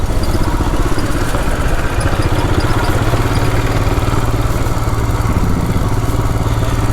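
A motorcycle engine idles close by, a loud, steady chugging rumble with a fast even pulse and light mechanical clatter throughout, with no voices.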